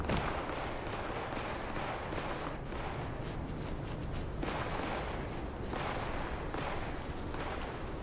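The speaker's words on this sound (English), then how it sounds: "Gunshots sound like they're coming from the inside." Gunfire in the video game Vampire: Bloodlines 2, faint and muffled shots repeating at irregular intervals, sounding distant as if coming from inside a building, over a low steady background rumble.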